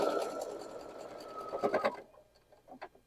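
A sewing machine stitches pieced quilt blocks for a LeMoyne Star, running in a steady close whir for about two seconds before stopping, followed by faint handling clicks.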